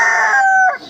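A chicken at a village poultry market gives one loud, close, drawn-out call lasting under a second, ending in a short rough break.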